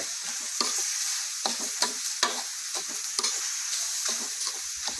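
Eel being stir-fried dry in a pan. A continuous bright hiss of frying runs under frequent sharp scrapes and clacks of a utensil stirring, close up, with no voices.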